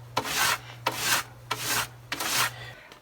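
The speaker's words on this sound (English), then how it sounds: "here I just scrub with a brush" A brush scrubs a bicycle part in four rhythmic back-and-forth strokes, each a raspy close-up swish about half a second long, evenly spaced over a low steady hum.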